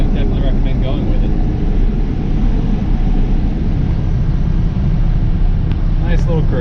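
A carbureted Ford Ranger F100 truck cruises along, its engine and road rumble a loud, dense, steady drone heard from inside the cab throughout.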